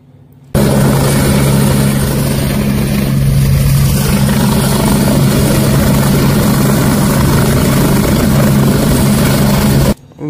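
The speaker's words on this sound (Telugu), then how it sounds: "హెలికాప్టర్ రైడ్ దగ్గరకు వచ్చేసినాం మనం" A helicopter giving rides sits on the sand at Masula Beach Festival in Machilipatnam, its loud, close, steady rotor and engine roar running unbroken for nearly the whole stretch before cutting off abruptly.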